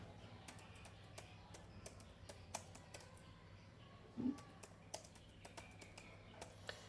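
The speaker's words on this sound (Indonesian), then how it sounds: "langsung aja kita ketik seperti ini" Keystrokes on a computer keyboard entering a command while flashing an Oppo A16 phone, scattered quick taps at an uneven pace over a low steady hum, with one firmer louder press in the middle.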